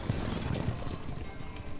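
Horse hooves clip-clop steadily with a neigh and whinny over the top, a short burst of mounted cavalry sound effects from the medieval strategy game Stronghold Crusader.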